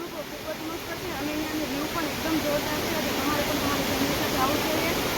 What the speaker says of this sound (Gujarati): આપ અહીંયા જે ધોધ પડે છે ત્યાં આવીને શું અનુભવો છો